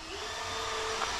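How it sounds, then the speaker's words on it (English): A power drill whirs steadily at close range while a rabbit nesting box is assembled, a continuous motor whine with no pauses. "And she's drilling and assembling."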